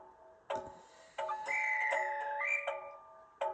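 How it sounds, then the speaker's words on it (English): Model diesel locomotive sound unit (4DD, Southern Region) sounding a tonal horn-like whistle in several short, close blasts with shifting pitch, separated by clicks and brief silences. "F16 Southern Region whistle."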